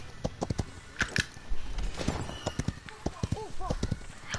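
Hooves clip-clop from a horse in the video game Paladins, with a brief whinny, heard in short bursts under ongoing talk.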